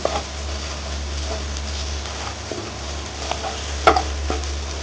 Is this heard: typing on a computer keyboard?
no